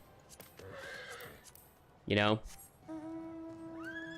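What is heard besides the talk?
Fire Horse mount neighing in a video game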